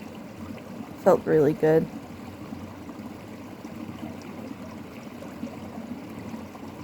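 Small, cold mountain creek flowing with a soft, continuous rushing trickle close by, steady throughout while a person briefly speaks over it near the start.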